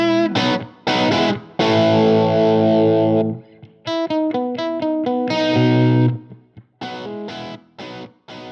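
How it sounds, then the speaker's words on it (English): Heavily distorted electric guitar through an amp with a treble boost pedal, playing sustained chords and choppy riffs, loud and saturated, with short gaps between phrases. "We'll get the distortion we want"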